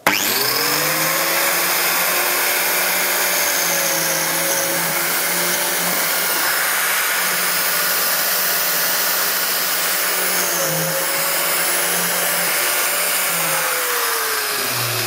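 A bladed woodworking machine cutting grooves in a wooden panel, with its blade set at 15 mm. It gives a loud, continuous high whine that holds steady for the whole stretch, with slight pitch shifts as the cut loads the blade.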